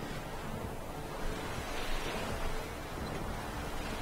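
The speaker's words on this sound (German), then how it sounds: "Geh aus dem Wind, das Segel flattert." Wind and sea waves batter a boat's flapping sail in The Witcher 3: a steady, broad rush of surf and gusting air with slight swells, no voices.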